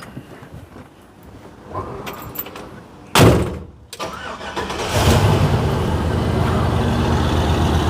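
A 1956 Chevy engine cranks and catches after a door thump, then settles into a steady, loud idle that runs to the end, with no talk over it.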